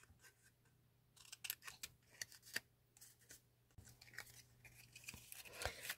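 Scissors snipping through paper, a run of crisp irregular cuts, close and fairly quiet with small rustles between them.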